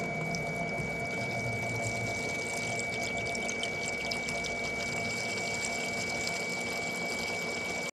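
Hydraulic fluid flows through the feed valve of a 1998 WoodMizer LT40 Super Hydraulic sawmill with a steady rushing, watery hiss and a constant tonal whine from the running pump, close and continuous.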